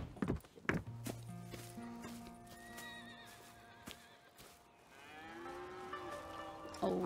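Farm animals in the Red Dead Redemption epilogue ranch scene: long low cow moos and horse whinnies ring out alongside hoof clip-clops, several calls overlapping at moderate distance.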